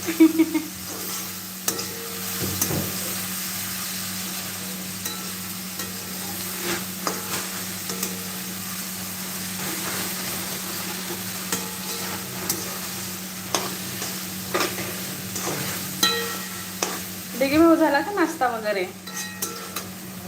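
Vegetables sizzle in hot tempering oil for an onion chutney, a soft continuous fry under a low steady hum with repeated stirring clinks and scrapes of a spoon on the pan, and brief faint voices in the background.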